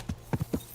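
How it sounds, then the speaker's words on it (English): Horse hooves clip-clop in Kingdom Come: Deliverance II, three or four close, dull thuds in quick uneven succession, with no talk over them. "Every time you gotta get off the horse and get back on to just reset and kill the horse."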